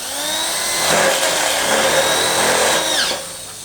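A power drill bores into material while an aviary is being built, giving a steady close whine with a sharp pitch drop as it stops near the end.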